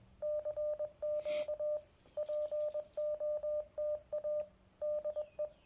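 Morse code CQ call sent on an amateur radio, a clean steady tone keyed in rhythmic groups of dots and dashes with short gaps, moderately loud over faint background hiss.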